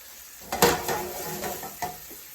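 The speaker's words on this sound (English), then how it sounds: "I'm going to put a little bit more olive oil in there. Then I'm going to put my fresh garlic in." Fresh garlic in olive oil in a hot pan, a few clanks and stirring scrapes over a light continuous sizzle, close and moderately loud.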